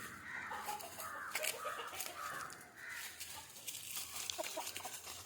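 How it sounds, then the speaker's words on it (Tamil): Free-range country chickens cluck and call at feeding time around dawn, with bran scattered for them; the flock sounds at moderate distance, quiet and continuous, with no talk. "ஏகப்பட்ட கோழி வந்துருக்கு ப்ரோ"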